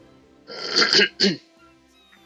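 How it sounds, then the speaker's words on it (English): A person clears their throat in two rough bursts, a longer harsh rasp followed by a shorter one, then quiet. "Excuse me for clearing my throat."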